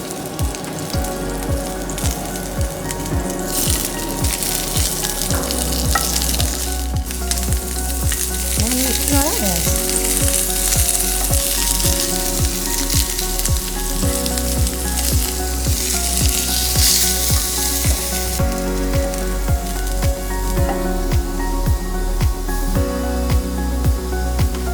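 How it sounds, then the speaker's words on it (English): Cherry tomatoes, bell peppers and broccoli sauteing in a pan, a steady broadband sizzle running throughout with repeated stirring scrapes and clatter, close and fairly loud, with no talking. "So we are going to just saute this so that it makes more healthier."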